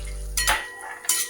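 Cashews frying in hot homemade ghee in a pan, with a low sizzle giving way to two bright metallic clinks of a utensil against the pan, close and fairly quiet.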